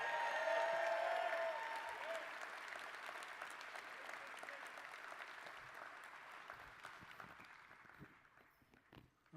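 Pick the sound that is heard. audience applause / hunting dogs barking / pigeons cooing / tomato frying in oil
audience applause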